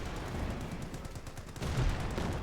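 Gunfire from a Cromwell tank striking an MD-34 crew in the Company of Heroes 2 video game, a dense burst of shots and impacts with a louder thump near the end, mid-distance amid battle noise.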